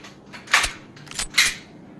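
Gunshots in the video game LAC ring out as three short, crisp pops spaced roughly evenly over two seconds, with no talking.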